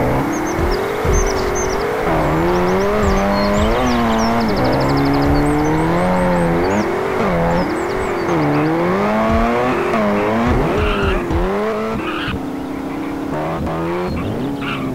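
Car engine in GTA San Andreas revving hard with a nitro boost, loud and continuous with rising and falling pitch sweeps, tire squeals and game effects layered over it throughout.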